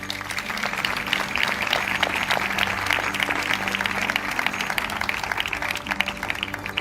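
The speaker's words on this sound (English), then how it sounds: "Please join me in a round of applause for Putri Aryani and the Abu Dhabi Youth Choir" Audience applause at a formal awards ceremony after a youth choir's performance, steady dense clapping from a large crowd that holds at an even level throughout.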